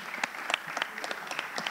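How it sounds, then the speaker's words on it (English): An audience at the Somerville Preservation Awards ceremony claps in a brief, steady patter of applause from a modest crowd. "a round of applause for"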